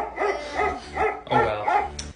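A dog barks four or five times in a quick, even rhythm, close and fairly loud, with a brief yip at the end and no talk.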